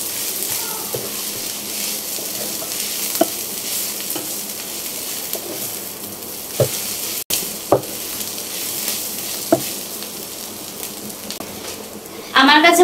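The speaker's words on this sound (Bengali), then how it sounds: "একটু ভাজা ভাজা করে নিতে হবে।" Jute leaves frying in a pan give a steady, close sizzle with occasional stirring scrapes and clinks, continuing alone for the whole stretch, with a brief louder clatter near the end.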